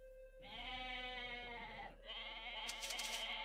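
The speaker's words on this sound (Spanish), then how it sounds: "Nos acabamos de robar 5 cabras." Goats bleat in the real-time strategy game Age of Mythology, one long wavering bleat followed by another, clear and close, with no talking.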